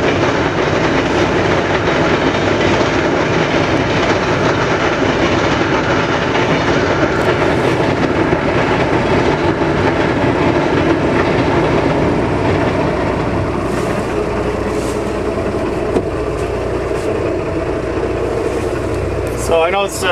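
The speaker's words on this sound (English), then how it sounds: "There's a train, it's a passenger train in Amtrak" An Amtrak passenger train passes nearby outdoors, a loud, steady roar of wheels and rail noise lasting throughout, with a voice talking over it.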